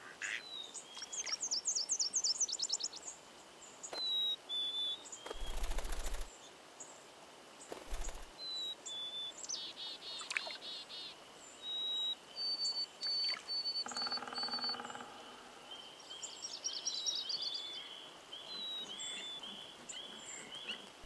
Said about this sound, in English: After a while, and no longer seeing Jimmy, the birds relax their vigilance.